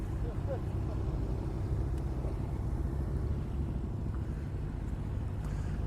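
A 2018 Benelli TNT 135 motorcycle engine drones steadily while riding, a constant low rumble mixed with heavy wind buffeting that runs unbroken throughout.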